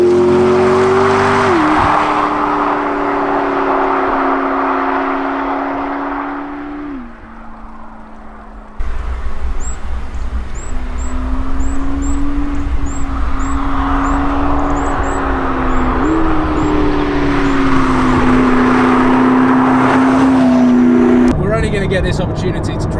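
McLaren P1 supercar engine on twisty roads in manual and sport mode, a loud droning note that rises and falls with each shift and corner, briefly dropping away before surging again, with voices talking over it.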